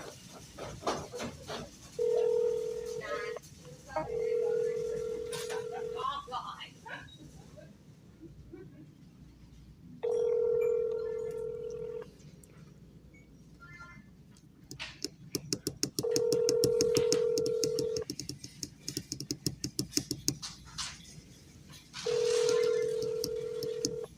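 Telephone dialing and ringing on an outgoing call to a customer: a steady tone repeats in regular bursts with gaps between them, moderately loud and close, with faint background rustle and no talk.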